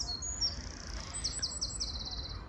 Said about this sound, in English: That's a little robin you can hear singing away.